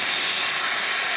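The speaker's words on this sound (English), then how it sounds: "nice pressure coming out of the steam boiler, excellent temperature as well" An Expobar espresso machine's steam wand vents steam in a loud, steady, broad hiss that runs unbroken and close-up.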